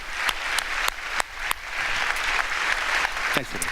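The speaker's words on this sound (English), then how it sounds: "Let's give you an applause first" An audience applauds David with steady, broadband clapping that carries through the whole stretch, a few sharper individual claps standing out, and a voice speaks briefly near the end.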